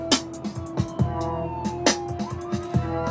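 An ambulance siren wails in the background of a street scene, a steady tone under repeated sharp thumping beats, moderately loud throughout.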